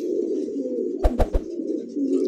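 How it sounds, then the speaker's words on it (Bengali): Pigeons coo in a soft, steady low murmur nearby, broken midway by three quick sharp flaps or taps in a row. "আর ডানে যে কবুতর আছে এটা হচ্ছে নর কবুতর"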